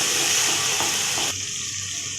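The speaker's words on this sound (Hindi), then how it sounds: "अदरक लहसुन को अच्छे से भून लेंगे प्याज में।" Ginger and garlic fry with onions in a pan for an Indian eggplant and potato curry, a steady close sizzle that eases slightly partway through, with no talk.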